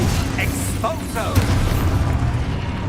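Expulso explosion spell in Hogwarts Legacy: a deep booming blast with a sustained low rumble, over a busy combat soundscape with a brief voice shout.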